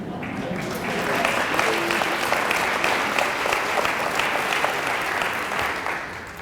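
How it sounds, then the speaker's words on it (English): An audience at a lecture breaks into sustained applause, a thick steady wash of clapping from many people that swells and holds before tapering slightly. "did Morgan start that clapping?"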